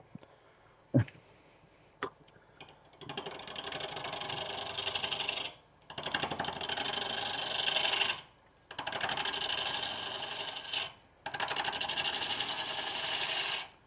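On a lathe, a spindle gouge roughs out a wooden bowl blank. After a couple of sharp knocks, four long passes of loud, raspy scraping follow, each lasting a few seconds with brief pauses between them.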